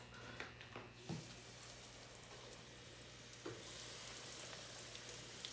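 Redfish fillets coated in rice flour fry in olive oil in a pan, giving a steady, soft sizzle and crackle throughout with a few louder pops near the start, no one talking.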